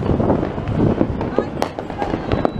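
New Year's Eve firecrackers and fireworks bursting in a neighborhood, a dense crackle of sharp pops and bangs over a steady rumble, with voices talking throughout.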